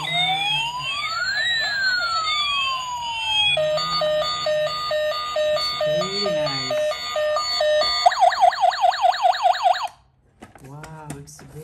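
An electronic toy siren cycles through several wailing and warbling patterns, loud and close, ending in rapid beeping before a brief pause.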